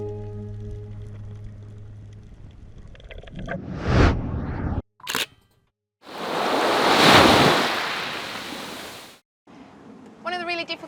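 Caribbean sea waves in the French Caribbean, heard from a sailing boat, wash in a loud rushing surge with gusty wind noise, cut between short edited bursts and brief silences.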